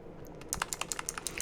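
Rapid, crisp keystrokes on a Razer keyboard with a metal back plate, about a dozen close clicks in an uneven typing rhythm with no voices.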